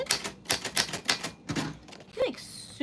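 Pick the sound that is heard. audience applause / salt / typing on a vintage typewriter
typing on a vintage typewriter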